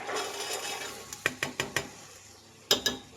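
Fresh peas being stirred into freshly ground masala in a pan, giving a low continuous scraping sizzle punctuated by about seven sharp metallic clinks of the spoon against the pan, close and moderately quiet.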